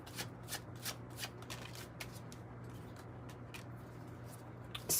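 Tarot cards being shuffled by hand, soft rapid riffling clicks and slaps in an irregular rhythm, close and quiet over a low steady hum, with no talking.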